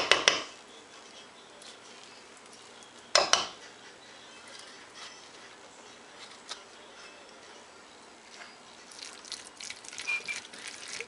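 Guacamole is mixed in a bowl, with sharp utensil knocks against the bowl at the start and again a few seconds in, then softer, steady scraping and mashing throughout, fairly close and with no voices.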